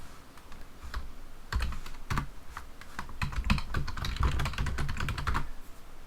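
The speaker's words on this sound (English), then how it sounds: "My keyboard is doing something funky. Wow, I'm pressing the up key." Computer keys are tapped in irregular bursts of sharp, close clicks, a quick flurry of typing with short pauses between, steady and moderately quiet, with no talking.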